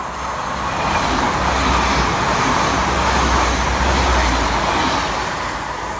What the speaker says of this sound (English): Flying through the middle for Transpennine Express is 802-201